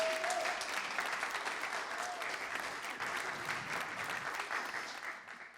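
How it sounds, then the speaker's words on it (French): Comedy club crowd in Lacaune bursts into applause during a stand-up set, thick, continuous clapping at an even level throughout before easing off at the very end. "vous pouvez applaudir"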